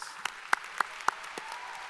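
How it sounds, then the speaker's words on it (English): Graduation audience at an ECPI University ceremony on the Richmond campus giving valedictorians a round of applause: a handful of sparse, scattered claps, fairly faint and distant over a quiet hall. "So let's give all of our valedictorians another round of applause."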